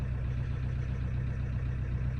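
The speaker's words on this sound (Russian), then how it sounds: "Мотор вроде как бы и неплохо работает, но есть у него легкий перестук" A car engine idles steadily and close by, with a faint, regular light knocking running through the low hum; the owner had recently repaired its injectors, which may still be faulty. No talking.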